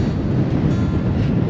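Steady, strong wind roars and buffets against the microphone throughout, with no speech, at a boat dock by the water.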